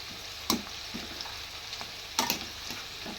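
Green chillies dry-roasting in a hot pan give a soft, steady crackle and sizzle, with a few sharper pops and stirring scrapes near 0.5 and 2.2 seconds.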